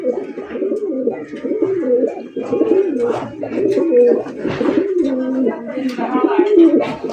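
Fancy racer pigeons, a cock and hen pair, cooing close by in repeated rolling throaty phrases, one overlapping the other, with a faint flutter in the background.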